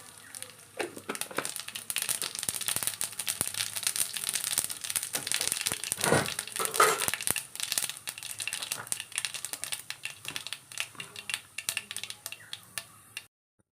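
Mustard seeds sputter and pop in hot coconut oil while a Kerala-style thoran is cooked, making dense, steady crackling that lasts throughout with no voices.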